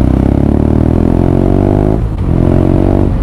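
A loud twin-cylinder motorcycle engine revs steadily with a rising harmonic whine as it accelerates, dips briefly, then climbs again, close by with no voices.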